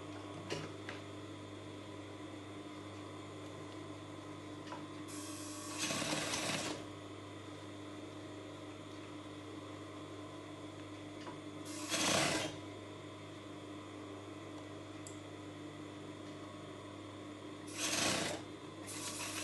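A sewing machine stitches a dress sleeve with a steady, faint mechanical whir, broken by three brief louder bursts spaced several seconds apart, with no voices.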